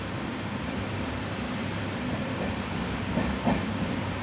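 The Mangaluru Rameshwaram Express rolls along picking up pace, a steady broad rumble and hiss from inside the carriage with a few faint clacks near the end.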